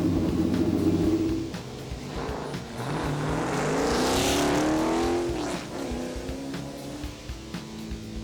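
Onboard a race car lapping Jennerstown Speedway, the engine roars and rumbles loudly, dipping as the driver lifts and then revving back up through the gears, with wind noise layered over the steady drone.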